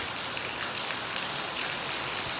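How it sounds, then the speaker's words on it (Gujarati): Steady rain falls on a hard surface at a cow shelter while the sun shines, a dense, even hiss of drops with no voices, continuous throughout. "તડકો આટલો છે તોય વરસાદ પડે"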